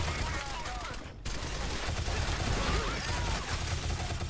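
Rapid automatic gunfire in a console shooter game, a dense continuous rattle with a brief break near the start, loud and busy throughout.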